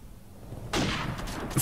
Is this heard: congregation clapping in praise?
no